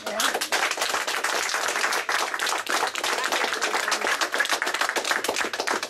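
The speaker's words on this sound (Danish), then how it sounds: "Og jeg synes, hun skal have en klap" An audience at a centre's 25th anniversary celebration claps in a dense, crackling burst. The applause is close and lively and runs throughout without pause.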